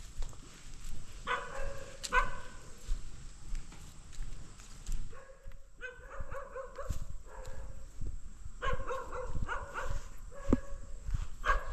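A dog barks repeatedly at a chili farm, the sharp barks coming in scattered clusters over a steady outdoor background, moderately distant.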